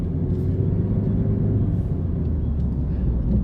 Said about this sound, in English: A little putt-putt airplane flying around.